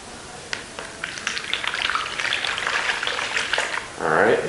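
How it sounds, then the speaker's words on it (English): Water poured into a bowl for cleaning Yeezy Zebra shoes, a steady trickling splash that builds and ends in a louder gush close by. "we're going to pour a little bit of water in here"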